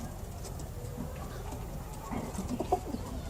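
Pigeons in a breeding loft with three pairs of birds, some with chicks, cooing softly in short low calls, the calls bunching toward the end over a steady background hum.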